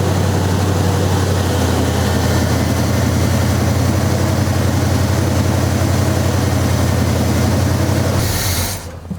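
A 1972 Chevy El Camino, an abandoned garage find, idles with a steady low rumble that runs loud and unbroken before cutting off abruptly near the end.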